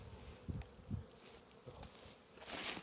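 A honeybee buzzes close around a beekeeper standing near the hive colonies, its drone rising and fading in short passes over faint rustling outdoors.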